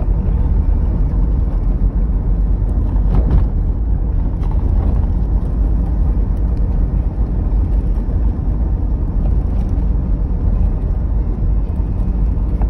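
A boat's engine runs steadily and loudly, a constant low rumble with wind buffeting the microphone throughout.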